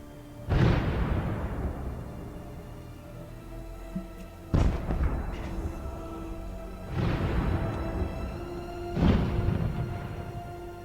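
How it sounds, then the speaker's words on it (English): Heavy fire and explosions hit Russian armored personnel carriers in Ukraine: four separate booming blasts a couple of seconds apart, each sharp and loud, then decaying into rumbling noise. "Russian armored personnel carriers are under constant heavy fire"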